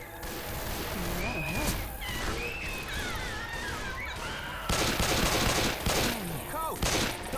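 Gunfire rattles in bursts while shooting zombies at the Dark Carnival in Left 4 Dead 2, with loud overlapping shots, heavier volleys near the end, and game voices and creature cries mixed in.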